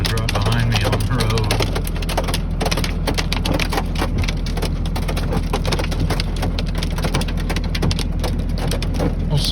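Rain mixed with small pea-size hail drums steadily on a vehicle during a passing storm, a dense, continuous patter of sharp ticks over a low engine rumble.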